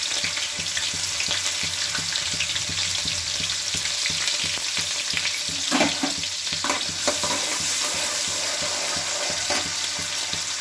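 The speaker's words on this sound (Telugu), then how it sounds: "ఇది కొంచెం కాగానే ఉల్లిపాయలు వేసుకోవాలి" Onions sizzling and frying in hot oil with cumin seeds while being stirred for chicken curry, a steady bright crackle throughout with occasional stirring clatter, close and fairly loud, no talking.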